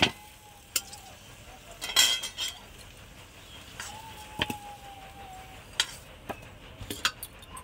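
Fried potatoes being lifted out of a pan with a metal utensil: scattered scrapes and clinks against the pan, with a faint sizzle underneath and no talking.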